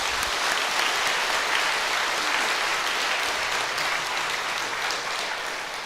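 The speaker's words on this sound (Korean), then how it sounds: "큰 박수를 받습니다" Big, sustained applause from a congregation at an Easter union worship service in a church, dense and steady throughout without any talk.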